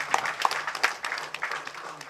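An audience at a Tamil political speech event claps in a short, uneven burst, with scattered individual claps standing out against a modest hall ambience.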